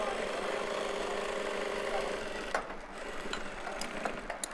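A sewing machine runs steadily while stitching a trouser pocket, its close motor whir continuous for a couple of seconds, then it slows and stops to lighter handling sounds.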